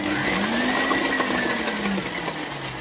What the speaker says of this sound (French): là on met le robot pour mixer l'eau avec la levure.